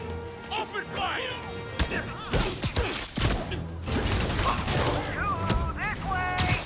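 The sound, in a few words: gunfire from criminals in Spider-Man Remastered video game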